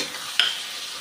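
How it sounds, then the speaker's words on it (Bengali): Apples with turmeric and salt being stirred in a frying pan for apple chutney, a soft steady sizzle with one brief scraping stir near the start, close and alone without talk. "এরপর আপেলগুলা দিয়ে একটু হলুদ দিয়ে আর নুন দিয়ে নাড়াচাড়া করছি।"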